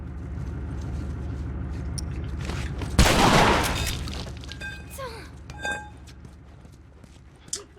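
A rifle fires once in The Last of Us: a single loud, sharp blast that fades into a decaying rumble over ongoing game background sounds, with a voice talking.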